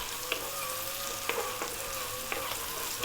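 Onion and garlic sizzle steadily in a pan over fairly lively, above-medium heat, a continuous close hiss with a few light stirring clicks and no talking.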